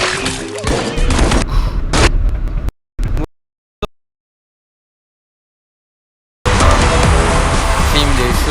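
Rapid gunfire and booms fill a shooting video game, a dense, loud barrage that cuts out into near silence for several seconds before the shooting resumes, with a voice talking over the action.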